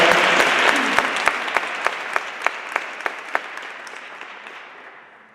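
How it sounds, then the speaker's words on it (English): An audience at a teach-in on a Muslim registry gives a round of applause, steady clapping with a few sharper claps that fades out over a few seconds. "hope you'll join me in a round of applause for the four of them"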